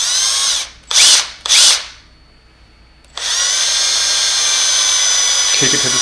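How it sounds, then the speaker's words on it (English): A handheld power drill bores into Delrin plastic while fitting an explosion-proof emergency LED exit light, two short loud whirring bursts, a pause, then one long steady high-pitched drilling run. "This part you're gonna have to drill into your Delrin."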